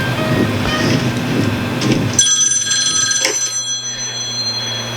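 Old telephone ringing in a 1980s horror movie, a shrill ringing tone that starts partway through and carries on over a low hum, following a stretch of muffled film sound.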